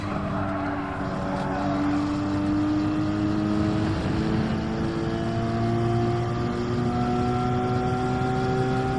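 Steady droning car engine in Gran Turismo 7, with rising harmonic tones like a vacuum cleaner, continuous and fairly loud throughout, revving up through gears during a time trial.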